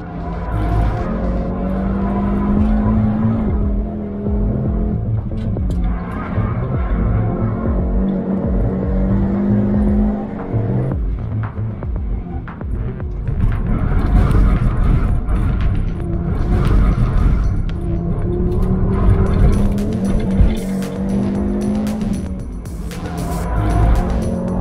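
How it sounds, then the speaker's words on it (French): Audi RS 3 with its five-cylinder engine lapping a race track at speed, a loud continuous engine roar rising and falling through gear changes with tyre noise, close and steady throughout. "admirer Frank Stippler au boulot, au volant de la RS3."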